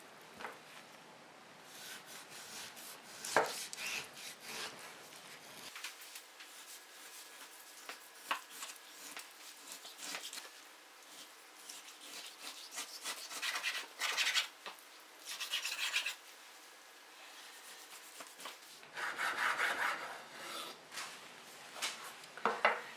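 A knife slicing pork into portions on a board, with intermittent rasping, scraping strokes and small knocks, close and fairly quiet, coming in uneven bursts.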